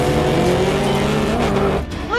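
Cars race in a Transformers film chase, engines roaring loudly and continuously with tires squealing, close and intense before easing briefly near the end.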